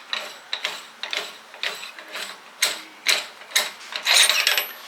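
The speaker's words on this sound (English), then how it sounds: "So you can unscrew your ratchet." A ratchet is unscrewed on a Hi-Flow oilfield tool assembly, giving a series of sharp metallic pawl clicks in steady strokes, close and distinct, ending in a quick buzzing run of clicks.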